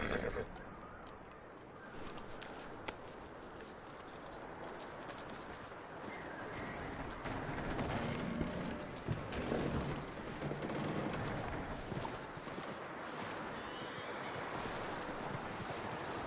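Horse hooves clip-clop steadily in the video game Red Dead Redemption, a moderately loud repeating rhythm over outdoor ambience with faint birds.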